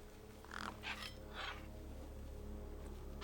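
A bird in the video game Beyond a Steel Sky, a few faint, rough caw-like calls in quick succession over a quiet hum.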